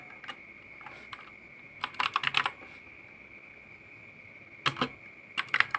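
Keystrokes on a computer keyboard while a name is entered into a database form, coming in short clustered bursts with pauses between, fairly close over a steady background hum.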